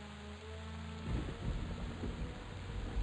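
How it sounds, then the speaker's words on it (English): Rain in the EverQuest game, a steady broadband hiss of falling rain that swells with low rumbling, thunder-like texture partway through, continuous and fairly loud with no talking. "I think I hear rain."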